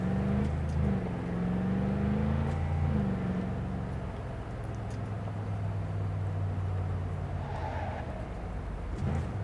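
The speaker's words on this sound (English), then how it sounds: "The engine note is best described as guttural and a bit thrashy." Thornton Mackinaw car engine on a hill climb at Lake Farm, a guttural, slightly thrashy drone that holds steady and close, shifting pitch as the revs change and then easing off toward the end.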